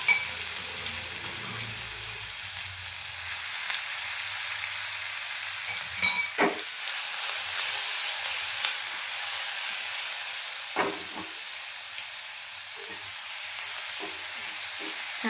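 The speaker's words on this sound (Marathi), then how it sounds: "तेल छान गरम झालं की त्यामध्ये आपण मिरचीचा वाटलेला ठेचा ॲड करूया." Ground green chili thecha sizzles and fries in hot oil with a steady bright hiss, broken by a few stirring scrapes and clinks.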